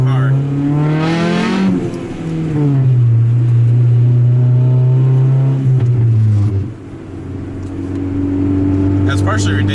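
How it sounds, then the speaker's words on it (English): A car engine revs loudly and close, its pitch rising and falling through several throttle blips, with a few sharp exhaust pops near the end. "I just love all the backfires I get out of this exhaust"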